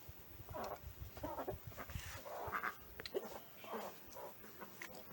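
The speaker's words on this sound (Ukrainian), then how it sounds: "випустила трошки курочок попастись" White chickens scratch and graze in a Ukrainian village yard, giving faint scattered clucks and soft calls at a distance, with rustling around them and no talk.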